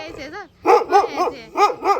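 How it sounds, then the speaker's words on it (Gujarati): A dog at a village home gives several short, yelping barks and whimpers in quick bursts, loud and close, as people talk nearby. "કૂતરો આવો આવો"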